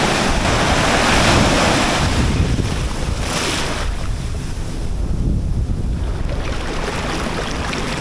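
Strong ocean surf rolls onto a beach in southern Thailand, a continuous loud wash of breaking waves with wind buffeting the microphone and no voices.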